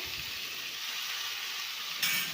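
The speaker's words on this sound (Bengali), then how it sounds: "কড়াতে সর্ষের তেল গরম করে তার মধ্যে রসুন কুচি দিয়ে দিলাম। এরপর শাক দিয়ে দিলাম।" Chopped garlic and water spinach frying in hot mustard oil in a wok, a steady close hiss and sizzle that swells slightly louder at the end.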